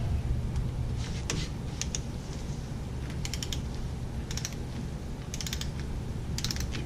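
Ratcheting clicks from a torque wrench snugging a 14 mm wheel stud nut to 35 foot-pounds on a 2014 Ford Explorer hub, arriving in short bursts of close, crisp ticks over a steady background hum.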